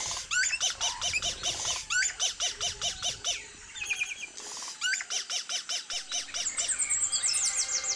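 A territorial male songbird singing, such as a nightingale, chaffinch or robin, in repeated rapid trilling phrases of bright chirps and whistles, loud and close, with short pauses between bursts and a second bird joining near the end.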